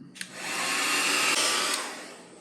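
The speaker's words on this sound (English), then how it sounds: "So I'm gonna hit it with a hairdryer really quick, let that dry" A hair dryer switches on and blows with a steady, loud whooshing roar for a couple of seconds, close by, drying paint on a textured background.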